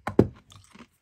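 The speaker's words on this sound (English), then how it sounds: "I'm chewing some ice." Ice is chewed right at the mouth: two sharp, loud crunches in quick succession, followed by a few softer grinding bites that fade within a second.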